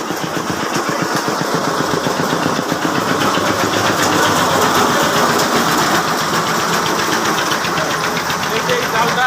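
A puffed rice frying machine runs steadily, giving a loud, dense mechanical rattle and churning drone with a fast rhythmic pulse, close by and continuous throughout.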